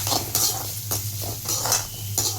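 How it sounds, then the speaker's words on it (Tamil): Sliced onions being stirred and fried in a pan until golden for a fish curry, with a steady sizzle under repeated scraping and clinking strokes of a spoon against the pan, close and continuous. "நல்லா கோல்டன் ஃப்ரை வரையும் வதக்குங்க"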